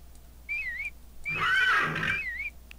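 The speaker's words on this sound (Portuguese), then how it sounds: "Deixa eu ver aqui pro cavalo, pra ele vir pra cá." A horse neighs in the farming video game Harvest Moon Back to Nature, giving a clear whinny between short high whistling calls, close and moderately loud, with no talk.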